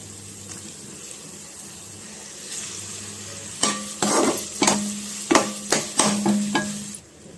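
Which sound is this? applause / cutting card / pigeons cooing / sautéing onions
sautéing onions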